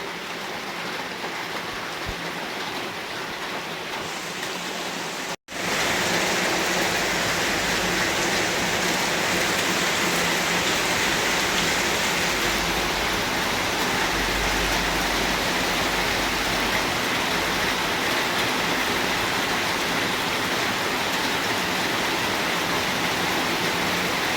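Heavy monsoon rain pours down steadily during flooding, a dense, loud, continuous roar of falling water that briefly cuts out near the start, then resumes at full intensity without any talking.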